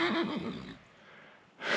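Horse neighing loudly and close at a pasture, one wavering whinny followed by a brief pause and the start of another call.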